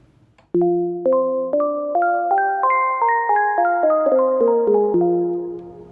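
A warm bell patch built in the Serum synth with added reverb plays a rising then falling run of about a dozen clear struck notes, each ringing and decaying into the next, alone and up front.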